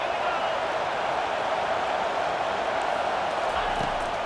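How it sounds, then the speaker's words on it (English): Stadium crowd in the EA College Football 25 video game roaring steadily behind the defense on a big third down, a dense, unbroken wash of cheering. "Big 3rd down as the crowd gets behind this defense."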